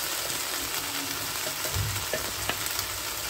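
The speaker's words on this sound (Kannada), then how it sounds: "ನೆಕ್ಸ್ಟ್ ಇದಕ್ಕೆ ನಾನು ಮಸಾಲ ಪೌಡರ್ ಮಾಡ್ಕೊಂಡಿದ್ದಲ್ಲ ಅದನ್ನು ಹಾಕ್ತಾ ಇದ್ದೀನಿ." Ivy gourd frying in a pan as homemade masala powder with fresh grated coconut is added, a steady close sizzle with a few soft scraping stir knocks, no talking.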